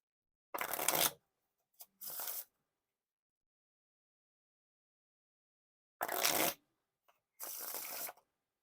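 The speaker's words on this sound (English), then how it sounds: "when you can actually get a good riffle and bridge shuffle going," Two rounds of shuffling Bicycle Titanium playing cards, each a fast riffle followed by a softer cascading bridge, close up with quiet pauses between.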